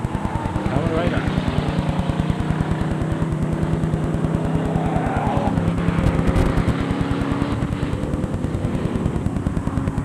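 Race cars roar in a steady, loud engine drone during a 15-lap feature race at a 2006 raceday, with a rhythmic pulsing of passing vehicles throughout and an announcer talking over the noise.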